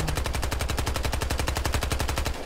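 Rapid automatic gunfire in the video game Battlefield Hardline, a loud, continuous burst of evenly spaced shots lasting a couple of seconds.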